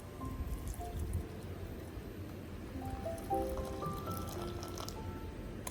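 Hot water is poured into a bottle of grated ginger with dripping and rising gurgling tones as it fills, soft and close, with no talking.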